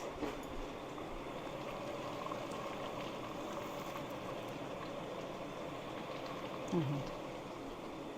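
A pot simmers on the stove, giving a faint, steady bubbling hiss that runs throughout, with a brief voice near the end.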